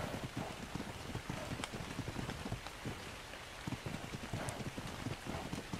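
Steady rain falls outdoors, a dense, even patter of drops striking a surface, close and continuous throughout with no voices.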